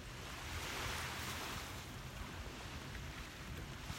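Ocean waves wash ashore at a beach, a soft, continuous surf hiss that swells gently near the start and then settles, faint and without voices.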